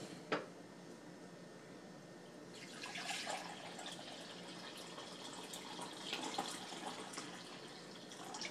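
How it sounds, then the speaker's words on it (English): Water pours into a pot for carrot ginger soup, a soft rushing splash that starts after a brief clink and runs steadily for several seconds, quiet and close. "And now I'm going to add the water."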